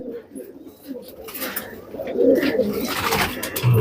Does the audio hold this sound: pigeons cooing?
yes